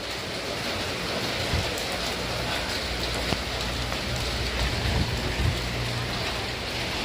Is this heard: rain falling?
yes